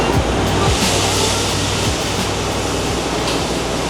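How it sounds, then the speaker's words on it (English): A vacuum cleaner sucks powder coating powder off a recessed freeze plug on a 2JZ engine block, giving a loud, steady, unbroken rushing roar. "we're vacuuming away the powder"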